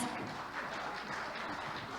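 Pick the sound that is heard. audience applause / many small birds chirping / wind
audience applause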